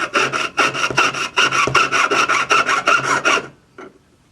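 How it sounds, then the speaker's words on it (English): A jeweler's saw cuts out a metal leaf in rapid, even back-and-forth strokes, loud and close, stopping abruptly near the end. "sawing it out. Do a really good job."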